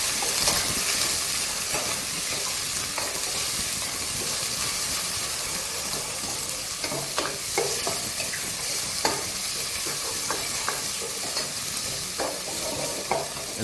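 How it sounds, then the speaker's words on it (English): Pork loin and chicken breast searing in a very hot pan, a strong steady sizzle and hiss with scattered pops and spatters, close and loud. "we're just going to drop our meat in there. And all we are going to do now is just brown the meat."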